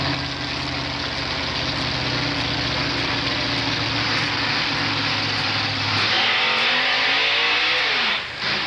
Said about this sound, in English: we're going to have a drag race between these two trucks